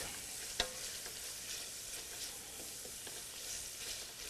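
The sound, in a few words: garlic frying in a preheated pan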